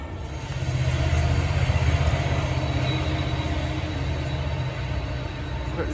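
A BNSF freight train with a single lead locomotive rolls past nearby, a loud continuous rumble with rhythmic clatter from the wheels that fades only slightly toward the end.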